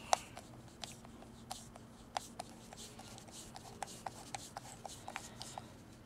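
A screwdriver turns a screw into a plastic phone mount in a Jeep Wrangler YJ, giving faint, close, irregular scraping and small ticking clicks that repeat over a quiet background.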